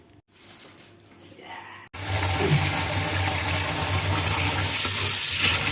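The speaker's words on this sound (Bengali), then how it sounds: "ভালো করে ধুয়ে নেব।" Soaked rice and lentils for idli being rinsed under running water: a quieter trickle at first, then a loud, steady gush of tap water with light stirring, and no talking.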